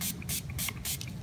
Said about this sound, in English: And you can see how evenly these will spray.